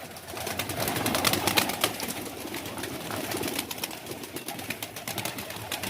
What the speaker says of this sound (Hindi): देखें ये आ गए इतने सारे कबूतर बाहर।